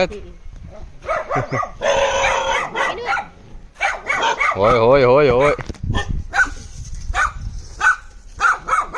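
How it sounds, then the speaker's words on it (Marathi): Dogs bark repeatedly at a home where chilies and spices are set out to dry, sharp yips and barks mixing with a whimpering, wavering howl while people talk and laugh loudly over them. "कुत्रे"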